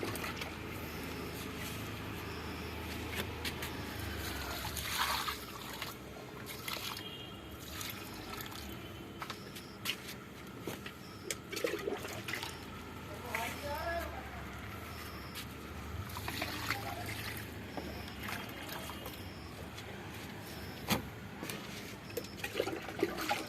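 Water is poured steadily onto a freshly pruned rose plant during feeding, making a continuous close splashing and trickling sound that runs for over twenty seconds with small irregular splashes.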